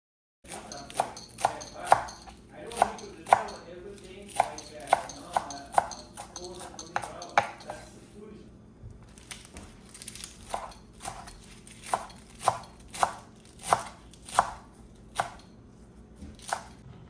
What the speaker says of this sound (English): The dal will start cooking while I finish chopping the kale.